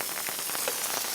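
Rain patters steadily on a camping tent at a Korean campsite, a dense, even hiss of drops hitting the fabric close by, with no voices.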